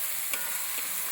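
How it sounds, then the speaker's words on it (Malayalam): Turmeric and coriander powder being stirred in a hot pan for a vegetable curry, a soft continuous sizzle with a few faint scrapes of the spoon, close and alone. "മഞ്ഞൾപ്പൊടിയും മല്ലിപ്പൊടിയും നന്നായിട്ട് അങ്ങോട്ട് ഇളക്കി കൊടുക്കും."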